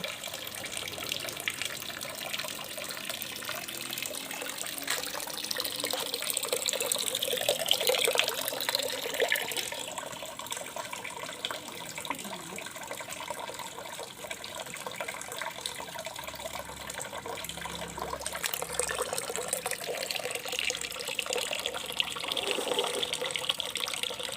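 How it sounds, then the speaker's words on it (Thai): Termite mushrooms being washed under a running tap, a steady splashing gush of water into a sink that swells and eases with handling, no voices. "เราก็จะได้เห็ดที่พร้อมที่จะล้างในรอบแรกกันแล้วค่ะ ไปดูการล้างกันเลย"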